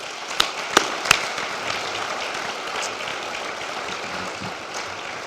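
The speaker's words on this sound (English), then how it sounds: "another round of applause for all of our award winners today" At a college of veterinary medicine awards luncheon, the audience claps for the award winners, with a few sharp claps at the start before settling into a steady, moderate round of applause.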